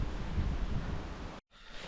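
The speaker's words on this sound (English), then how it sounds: "today there's a lot of wind. Look at the trees." Strong wind rushes through trees in a soft, continuous broadband roar, faint and distant-sounding, then cuts out briefly just before the end. No talking.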